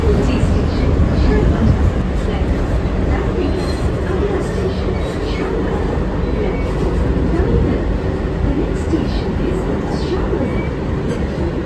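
Kolkata Metro underground train ride from Belgachhia toward Esplanade, a loud constant low rumble of the moving carriage with faint wheel squeals, and a voice speaking over the noise.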